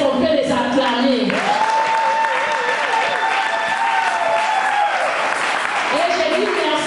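A church congregation in Creil applauds at a women's convention, steady clapping running throughout while someone speaks and sings over it on a microphone.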